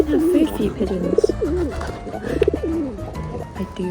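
Pigeons coo close by outdoors, a run of soft throaty warbling calls repeated through the clip, with a low background rumble and a voice speaking in between.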